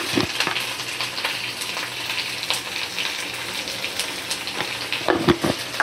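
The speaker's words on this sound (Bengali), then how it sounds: "এবার ভালো করে ভেজে নিচ্ছি আলুটা।" Potatoes fry in a pan with green chilli, ginger paste and tomato, a steady sizzle broken by scattered clicks and stirring scrapes, nearby and with no voices.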